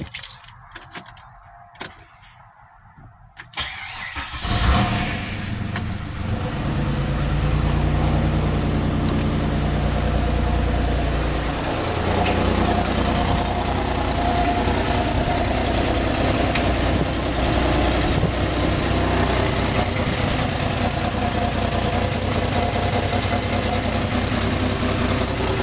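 A supercharged V6 engine in a 2006 Pontiac Grand Prix cranks and catches after a few seconds of quiet clicking, then settles into a steady, loud idle with a low hum and high whine.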